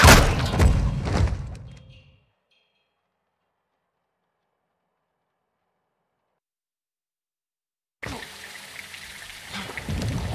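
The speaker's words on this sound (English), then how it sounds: "It's raining fucking hard." Heavy rain in the video game Call of Duty: Modern Warfare 2, a dense loud downpour that fades into silence, then returns as a steady rain hiss.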